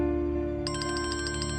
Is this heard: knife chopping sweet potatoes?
no